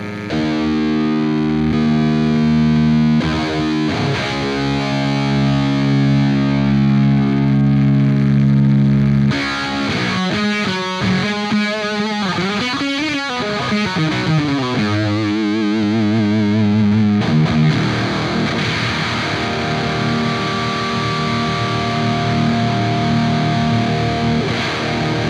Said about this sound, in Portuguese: quando a gente liga ele, dá bastante distorção